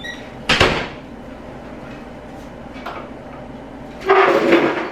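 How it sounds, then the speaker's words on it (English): A door being shut indoors at home gives a sharp knock near the start, then a quiet stretch and a second, broader thud and rattle toward the end. "let's shut the door."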